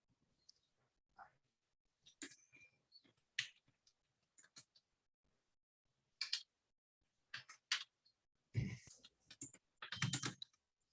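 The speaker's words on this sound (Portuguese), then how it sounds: "estou digitando" Typing on a computer keyboard, heard as scattered bursts of quick clicking keystrokes with pauses between them, growing louder and denser toward the end, with no talking.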